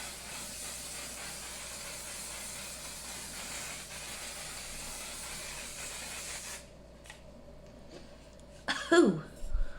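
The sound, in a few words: spritz of a Sephora setting spray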